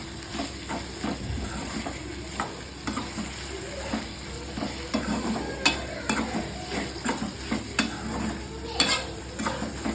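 Nethili karuvadu, dried fish, sautéing in a pan with turmeric and chilli powder, giving a soft steady sizzle punctuated by frequent scraping and clinking stirs of a spoon against metal, close and moderately quiet.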